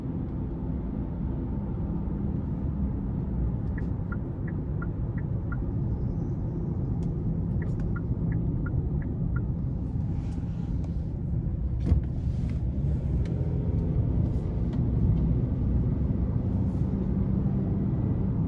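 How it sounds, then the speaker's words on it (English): Hyundai Santa Cruz SEL AWD with a 2.5 liter four-cylinder engine heard from inside while driving, a steady low rumbling road and engine drone with faint light ticks and clicks over it. "Even though it's a 4-cylinder, it doesn't sound whiny or ear-piercing or anything like that."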